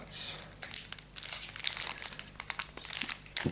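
Plastic wrapper crinkles and crackles in close bursts as a Caster Chronicles Wings of Anger card game package is torn open, busy and irregular for a few seconds.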